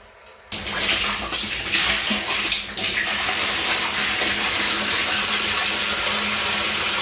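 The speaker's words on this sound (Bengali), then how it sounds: "দেখুন পাম্পটা চালিয়ে দিয়েছি, এবার পাম্পের জলটা নিচে পড়ছে" A pump switches on and water gushes and pours steadily down while a water tank is being cleaned, starting abruptly after a moment of quiet with a few splashy surges, then settling into a continuous loud rush.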